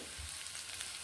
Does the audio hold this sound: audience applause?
no